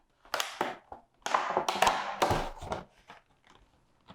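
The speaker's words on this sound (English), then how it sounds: "let me just pop these paints out" Acrylic paint tubes being popped out of their plastic packaging, a run of sharp plastic snaps and crackles in quick irregular bursts, close and fairly loud, with no talking.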